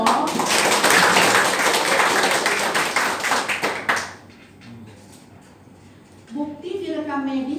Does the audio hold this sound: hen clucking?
no